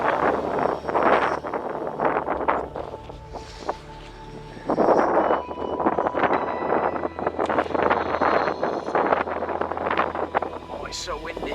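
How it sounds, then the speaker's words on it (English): Wind gusts in bursts over the microphone at a historical colliery with an abandoned minecart track, rough rushing blasts alternating with calmer moments while a person talks. "Oh, it's so windy."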